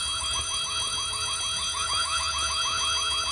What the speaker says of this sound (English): The alarm says there's an intruder in the school.